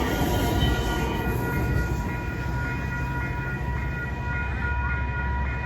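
A California Surfliner or Metrolink passenger train on the Pacific coast rumbles steadily past at close range, a continuous heavy roar of wheels and rail with a faint tonal whine held throughout.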